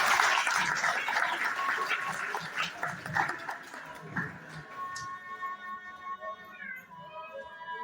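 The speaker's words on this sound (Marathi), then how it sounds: "टाळ्या वाजवा." Audience applause at a school prize ceremony, dense clapping that starts strong, then thins into scattered claps, with a high whine or squeak over the final seconds.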